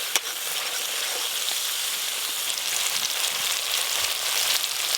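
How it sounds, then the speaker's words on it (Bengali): Spices with mustard-poppy paste, turmeric and chili powder fry in hot oil while being stirred, giving a steady, dense sizzle with faint scraping throughout. "এই যে এইভাবে নাড়তে নাড়তে কিন্তু মশলা থেকে তেল ছাড়া শুরু হয়ে গেছে"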